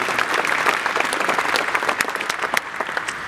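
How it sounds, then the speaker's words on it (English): An audience at a Team Lotus announcement about buying Caterham gives a round of applause, dense, loud clapping that fills the whole stretch without talk. "please give a round of applause."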